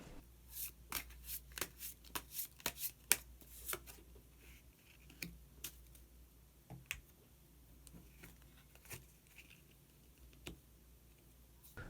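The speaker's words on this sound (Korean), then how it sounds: "히든 카드를 한 장 더 뽑아보도록 하겠습니다" Tarot cards are shuffled and drawn in a series of close, crisp riffles and snaps, loudest over the first few seconds and then sparser, with no talking.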